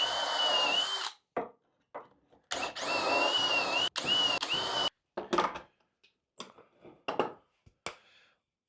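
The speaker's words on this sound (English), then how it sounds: "And now we drill our matching holes." Several bursts of a power drill whining at high speed while drilling dowel holes in wood with a dowel jig, each lasting about a second, separated by short pauses and faint clatter.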